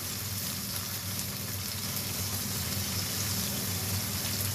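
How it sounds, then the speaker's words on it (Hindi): Water being poured into a pot of Bengali-style masala fish curry, a steady, even gushing and splashing that runs unbroken from start to finish, close by and moderately loud, with no voice over it. "थोड़ा सा ये पानी इसमें डालने लगी हूँ ताकि मसाला नीचे से जले नहीं"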